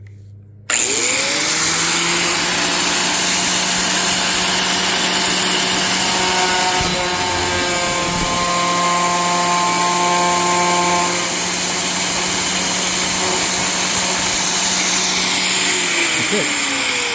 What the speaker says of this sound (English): I'm gonna pause, get my angle grinder, and with the angle grinder,